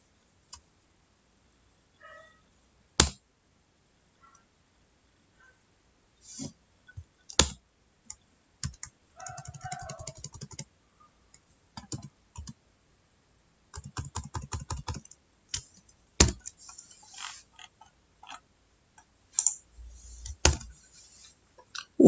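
Clicking on a laptop during drive maintenance sounds as scattered sharp clicks and short rattling bursts of keys, near and crisp, separated by stretches of near silence.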